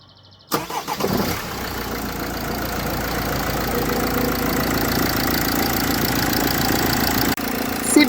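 A Mercedes camper van engine cranks and catches, then settles into a steady, close, loud idle for several seconds before cutting off near the end.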